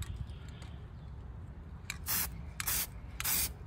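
Spray paint hisses onto a 1957 Chevy in three short bursts, each a sharp bright spray close by, over a low background rumble.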